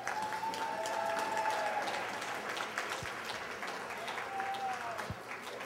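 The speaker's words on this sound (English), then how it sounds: "Give them another round of applause." Applause from an audience at a general session of a conference, steady and sustained throughout, moderately distant and soft, with a faint whistle-like tone drifting over it.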